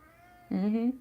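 A house cat gives a single short, close meow lasting under half a second, while a person murmurs briefly nearby.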